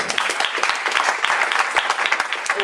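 A concert audience in Sansais applauding, dense sustained clapping from many hands filling the room, loud and steady throughout.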